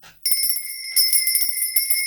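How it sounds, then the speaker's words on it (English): A small hand bell rings in a quick burst, bright sustained high tones shimmering for about two seconds, loud and close, with no talk over it. "I'm going to ring my bell really quickly."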